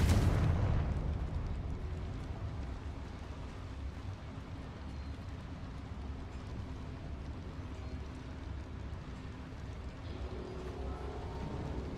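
A Confringo blast spell goes off inside a small mine in Hogwarts Legacy, opening with a heavy booming burst that fades into a long low rumbling roar, with no voices over it.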